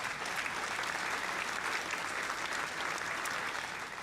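Steady, even clapping applause holds throughout at a moderate level, dense and continuous, with no voices standing out.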